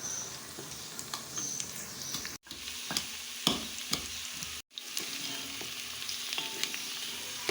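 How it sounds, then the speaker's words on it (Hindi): Onions sizzle and fry steadily in a pan while browning for keema, with occasional stirring clinks and two brief dropouts in the sound. "प्याज को हमने ब्राउन करने के लिए रख दिया है।"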